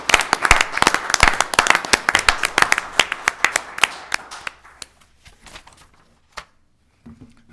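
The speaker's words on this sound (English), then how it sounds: "Let's give Chief Fire Department a round of applause, please." A small group at a Board of Commissioners meeting applauds the fire chief: close, sharp individual claps in a brisk run that thins out and tapers to a few scattered last claps.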